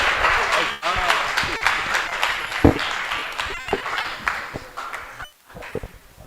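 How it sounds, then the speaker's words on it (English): An audience applauds Professor Mchilibi at a South African forum, giving moderate, uneven clapping with a few sharper claps, briefly dipping near the end, with some voices mixed in. "Can you please give Professor Mchilibi a round of applause?"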